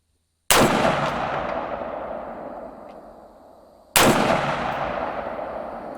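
Two sharp rifle gunshots at an outdoor range, about three and a half seconds apart, each loud and close with a long rolling echo decaying after it.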